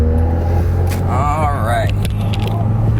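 A Honda Prelude with badly misaligned wheels driving on the road, a steady low engine and road rumble inside the cabin throughout, with a voice speaking briefly over it.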